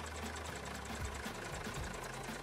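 A BMY Harsco M936A2 military wrecker truck with a Cummins 6CTA8.3 diesel engine runs steadily nearby, a continuous low rumble with an even knocking pulse.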